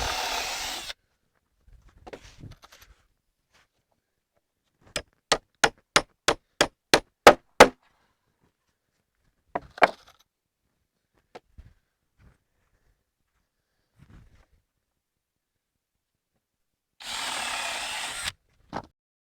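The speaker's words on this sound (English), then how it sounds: "Drill it. I'll drill it and nail it in." Ash boards from a fallen tree being worked on a floating sauna build: a burst of about ten sharp, evenly spaced hammer-like knocks, a few scattered thuds and clicks, with loud bursts of motor noise at the start and end.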